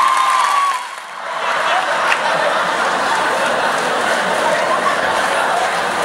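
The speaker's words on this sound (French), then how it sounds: "Applaudissez-vous" An audience at a live stand-up comedy show at a comedy festival applauds in a dense, continuous wash of clapping that dips briefly and then swells again, with scattered voices and chuckles mixed in.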